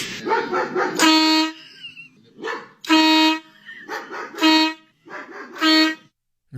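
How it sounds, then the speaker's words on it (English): A neighbor's dog barks in loud, close bursts, mixed with several sharp horn-like blasts that alternate with the barking, separated by short pauses. "this damn dog barks at me"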